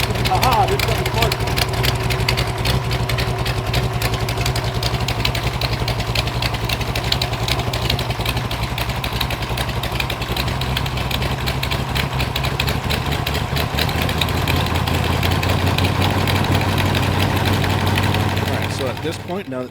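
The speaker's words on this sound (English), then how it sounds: "now that the engine has warmed up a little bit" A deep Mopar LA small-block V8 engine idles steadily for a long stretch after warming up, a low continuous rumble with a brief rise near the end.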